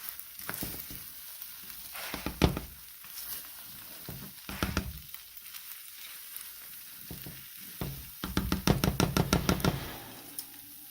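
A pot of Puerto Rican rice and beans being stirred with a spoon, several bursts of scraping and knocking against the pot separated by quiet pauses, with a rapid run of strokes near the end.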